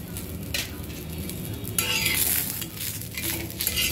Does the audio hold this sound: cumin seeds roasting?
yes